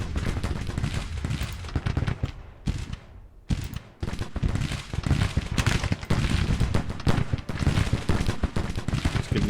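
Musket volleys crackle across a Civil War battlefield in Grand Tactician: The Civil War, dense ragged bursts of gunfire rolling almost continuously, with a brief lull midway before the firing resumes loud and sustained.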